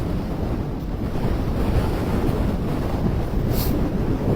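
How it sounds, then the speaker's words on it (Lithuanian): Strong wind roars continuously over open ice at an ice-fishing competition in Sweden, buffeting the microphone with a dense, unbroken rumble and hiss. "Žiauriai pučia vėjas."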